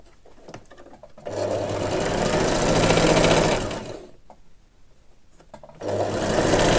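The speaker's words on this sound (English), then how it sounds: "and now I'm going to make a seam." A sewing machine sews a seam on a puffed dress sleeve, whirring loud and close in two long runs with a quiet pause between them, with no talking.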